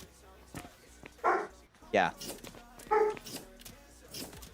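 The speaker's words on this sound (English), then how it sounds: "The dog is still committing noise pollution," A dog barks in loud, separate bursts at about one-second intervals, close by and competing with a person talking throughout.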